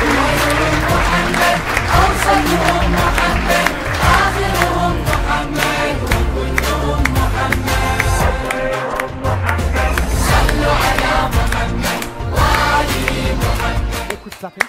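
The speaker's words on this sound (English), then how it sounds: "We've done an awkward clap for you, Sister Shahin." An audience at a Ramadan quiz show claps in a loud, dense, continuous burst that runs almost fifteen seconds with a steady rhythm, close and without talk layered on top.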